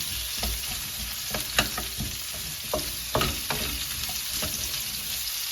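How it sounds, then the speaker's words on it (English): Red pepper and onion sizzle steadily in a hot pan for a beef stir fry, with intermittent scraping and stirring clatter over the constant fry hiss. "We're going to add our red pepper and onion."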